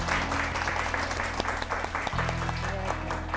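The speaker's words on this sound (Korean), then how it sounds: "조회수더 대표님을 큰 박수로 맞이해 주세요" A studio audience gives a warm, sustained round of applause to welcome a guest speaker onto a Korean lecture-show stage, steady dense clapping throughout with a continuous low musical hum underneath.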